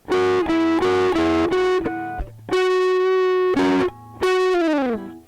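Distorted electric guitar plays a few sustained, buzzing notes and short phrases, loud and up close, with brief pauses and a final bending note trailing off.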